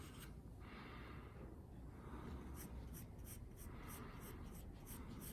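A firm pencil scratches across paper in hatching strokes, with a soft continuous rasp and a run of quick, evenly spaced short strokes in the second half, faint and close.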